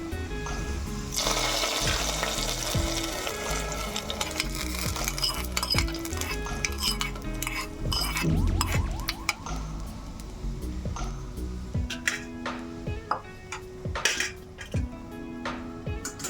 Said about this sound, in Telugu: ఇప్పుడు దీన్ని మనం చేసుకున్న ఈ బెండకాయ జిగురులోకి యాడ్ చేసుకుందాం ఈ తిరువాతను.